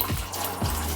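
About six cups of apple cider pour steadily into a wine-based apple sangria, a continuous soft liquid rush with a low hum underneath, no talking.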